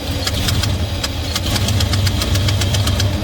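A 1974 Plymouth Road Runner engine idles steadily up close, with a rapid regular ticking puff from an exhaust leak layered over the low rumble.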